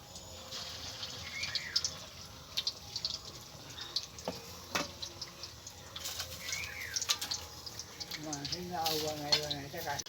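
Jalebi sweets frying in hot oil give a steady close sizzle dotted with crackling pops, and a voice talks over it at times.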